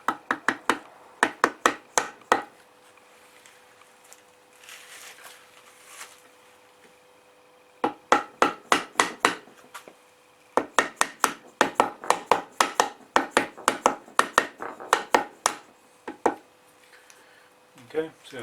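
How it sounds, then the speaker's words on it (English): Sharp soft dead blow hammer strikes land in quick rhythmic bursts of several blows, separated by short quiet gaps, fairly close, while installing a bearing in a Nissan Patrol reduction gear. "dead blow hammer."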